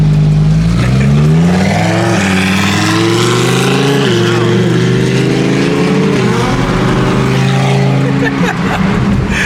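A BMW F80 M3 on stock wheels revs hard while its tires spin, a loud sustained engine roar with rising and falling pitch sweeps throughout, close and continuous.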